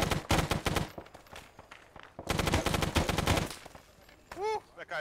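Bursts of automatic gunfire in a video game battle for Hue City, with rapid volleys rattling in two long stretches and a few sharper single shots near the end.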